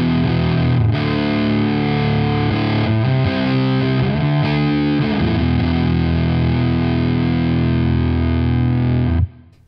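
Electric guitar played through a Krachwerke LedBelly Fuzz pedal, loud and continuous with thick, hard-clipped distorted chords that ring on for about nine seconds before cutting off abruptly at the end.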